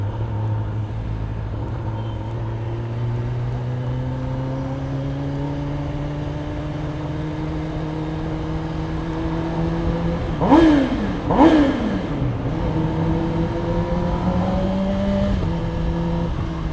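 A Kawasaki ZX10R superbike engine idles steadily with a rising drone at night, then is blipped twice in quick loud revs that echo in a tunnel before settling back to a running hum.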